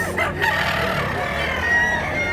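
A rooster crows loudly and steadily throughout, close by, with a dense rural background noise beneath the call.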